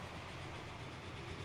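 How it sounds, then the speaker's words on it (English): German locomotive in the Transport Fever video game hauling a train, a steady dense broadband rumble with a continuous rolling rail noise and no talking. "This German train is terribly slow when it comes to haulage races."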